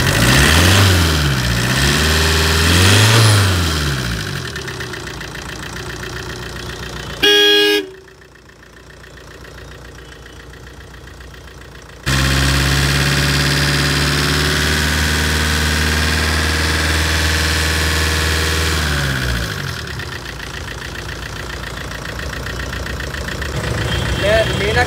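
A second-hand car at a used car showroom revs hard, drops away briefly, then settles into a loud, steady idle with more engine swelling, close to the listener.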